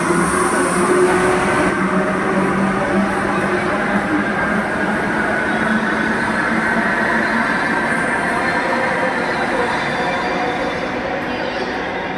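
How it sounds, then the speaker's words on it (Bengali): A metro train pulls away from the platform after its doors close, a loud, steady rumble of wheels and motors that eases only slightly over time, with no talk. "আর এই যে গেট বন্ধ, ট্রেন ছেড়ে দিল"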